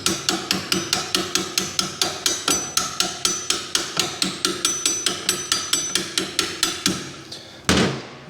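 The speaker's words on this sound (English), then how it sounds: "you don't want to use a hammer on the end of your acorn nuts" Hammer tapping on acorn nuts while assembling a 1974 Harley-Davidson XLCH Sportster chopper, about two dozen sharp, even metallic taps at a steady quick rhythm, close and loud, ending with a heavier knock.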